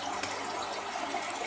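Aquarium fish egg incubator with air bubbling steadily through the water, a continuous close, even hiss-like burble with no talking.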